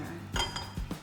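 A metal cooking pot is set down with two quick clanking knocks against other cookware, close and fairly quiet.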